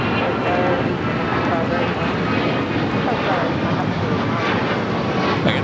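A Boeing 737 MAX 9 airliner in West Coast Wonders livery taking off at LAX, its engines producing a broad, steady roar that holds loud and continuous across the whole stretch.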